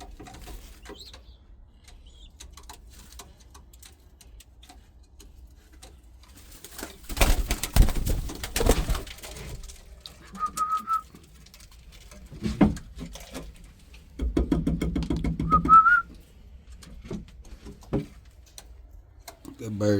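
Pigeons feed from a hand outdoors, with soft cooing, pecking and scattered wing flaps amid rustling, while someone talks intermittently nearby.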